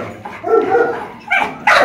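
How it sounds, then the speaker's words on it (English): A dog at an animal shelter gives a few loud, close barks and yips in quick succession, with short gaps between them and no talk over them. "He's a good dog."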